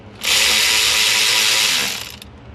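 Ratchet wrench snugging down the intake manifold bolts on a 4.3 Vortec engine, one sustained close rapid clicking run of about two seconds that fades out at the end.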